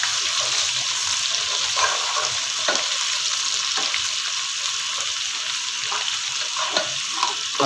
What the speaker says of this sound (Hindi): अदरक लहसुन को भी 2 मिनट भून लेंगे ताकि इसका भी कच्चापन ख़त्म हो जाए और ऑयल में ये फ्राई हो जाए।